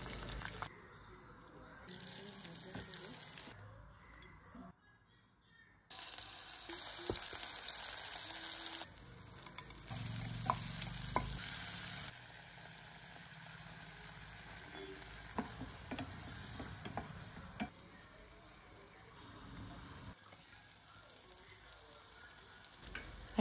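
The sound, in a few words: pointed gourd frying in plenty of oil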